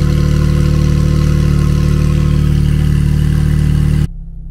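A Porsche 992 Carrera 4S with a Stage 2 tune running close by, a loud, deep, steady engine rumble at idle that stops abruptly near the end, leaving a faint low hum.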